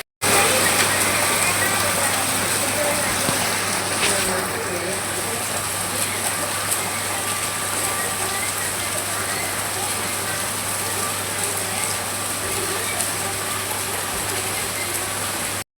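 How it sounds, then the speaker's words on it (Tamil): Heavy rain pouring down outside, a dense, loud, unbroken roaring hiss that fills the whole stretch at a steady level, close and continuous. "அவ்வளோ மழை பெய்யுதுங்க அவ்வளோ மழை பெய்யுது"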